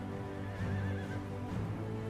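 Horse whinnies and neighs voiced by warg units in a Total War strategy game, a drawn-out wavering neigh followed by another, with faint hoof clatter underneath and no talking.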